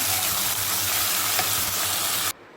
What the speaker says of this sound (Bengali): আর কাঁচা লঙ্কা বাটা দিয়ে মশলাটা একটু ভেজে নিচ্ছি